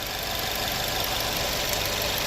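A Jeep's 2-liter turbocharged engine runs steadily under an open hood, a continuous close mechanical hum and whir with no talking.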